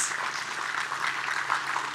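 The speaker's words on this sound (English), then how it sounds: "Give him a big, big round of applause." Applause from a conference audience at a workforce skills event for an alum being honoured, a steady wash of moderate clapping throughout with no talking.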